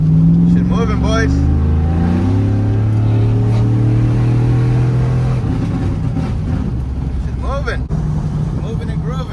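A pickup truck engine, fitted with electric fans instead of a clutch fan, hums and rises in pitch as it accelerates, heard from inside, with occasional speech over the steady motor.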